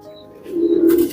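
Firozpuri pigeons coo close by, a low soft throaty warble that swells and grows louder through the second half, with faint chirps above and no talk.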